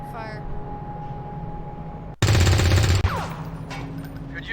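Burst of automatic gunfire in the XCOM 2 video game, a loud sustained rattle of shots cutting in sharply midway over a steady background drone, lasting under a second before fading into ambient battle noise.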